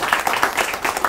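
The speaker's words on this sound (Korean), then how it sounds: "세 분 우리 후보자에게 우리 격려의 큰 박수 부탁드리겠습니다" Brief, dense burst of applause from an audience at a Korean political party's regional meeting in Gyeonggi Province, many hands clapping at once, loud and close.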